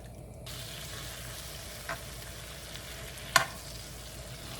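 A steady, gentle sizzle of bulgogi beef frying in a pan, with a couple of faint clicks and scrapes.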